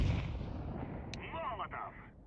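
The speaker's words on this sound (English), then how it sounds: "I'm throwing a grenade." A grenade explodes in Counter-Strike 2 with a deep, booming blast that rumbles and fades over about two seconds. A faint voice may sit underneath.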